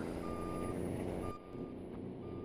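Trucks reversing in Farming Simulator 22, with an intermittent electronic backup beep repeating over a constant low engine rumble.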